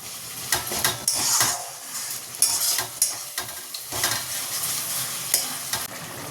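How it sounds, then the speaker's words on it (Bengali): Spices sautéing in a wok, a continuous sizzle broken by repeated sharp scrapes and clinks of a spatula against the metal, close and busy with no talking. "এই কড়াইতে আমি মশলা কষতে বসিয়েও দিয়েছিলাম এটাও হয়ে এসছে অলমোস্ট"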